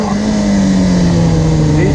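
Motorcycle engine held at steady revs with a slowly falling drone during wheelie practice, loud and continuous throughout.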